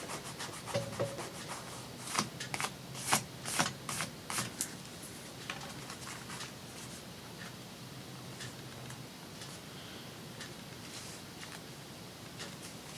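Quiet rubbing and dabbing on paper to clear excess glue while crafting vintage book pages, with a cluster of soft scratchy strokes early on, then faint, sparse rubbing over a hushed room.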